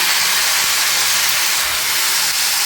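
Tomatoes hit a hot pan and set off a loud, steady, close hiss and sizzle that runs unbroken throughout, with no voices.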